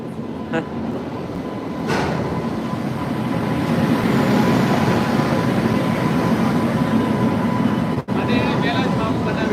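Steady broadband rumble of a train rolling past at close range, loud and continuous throughout, with brief clanks near the start.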